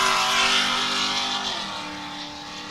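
Off-road race car launching off the start line at the Big Sky 200 in Broadview, Montana, its engine roaring loud and close as it accelerates away, then the pitch drops and fades slightly as it pulls off.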